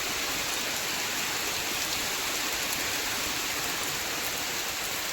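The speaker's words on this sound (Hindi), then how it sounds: "कितनी तेज बारिश आ गई" Heavy torrential rain pours down in a constant, loud, broad hiss that never lets up, with no one speaking.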